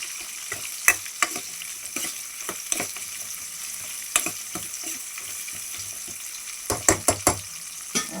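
Tempering seeds sizzle and crackle in hot oil while cooking gongura dal, with a steady frying hiss and scattered sharp pops and spatters, loudest in a quick cluster near the end; no one speaks.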